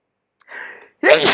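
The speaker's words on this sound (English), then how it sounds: "Been sneezing all morning." One person sneezes close by: a short sharp intake of breath, then a loud explosive burst, alone and very near.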